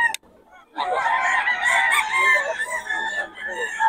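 A Sweater gamefowl rooster gives one long, loud crow close by, following a brief sharp sound, with no other noise around it.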